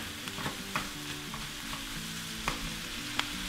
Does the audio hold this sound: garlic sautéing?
yes